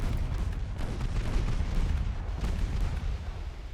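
Torpedo detonation against an enemy destroyer in the naval warfare game Ultimate Admiral Dreadnoughts: a continuous low rumbling boom with dense crackle, steady and fairly distant-sounding throughout, with no talk.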